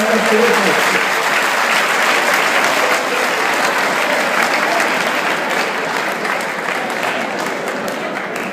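Loud, dense applause from an audience at a Hindi poetry gathering in Canada, welcoming a poet to the stage; the clapping runs steadily throughout and eases off slightly near the end.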